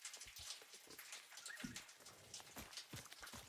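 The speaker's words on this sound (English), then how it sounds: "There's a sound effect for the rain hitting the metal structure." Steady rain patters on a metal structure in the video game Satisfactory, a dense hiss with scattered drop ticks and a few lower thumps, fairly soft and continuous with no one talking.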